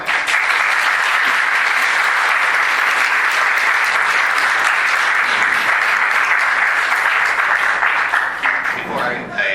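An audience at a La Grange, Illinois plan commission meeting claps loudly and steadily for several seconds, a dense roomful of hands that thins out toward the end.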